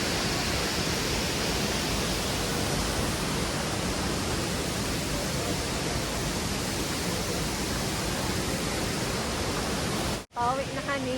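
Kawasan Falls in Cebu pours down on a rainy day as a loud, dense, steady rush of water. The roar continues unbroken until it cuts out abruptly near the end, and a voice follows briefly.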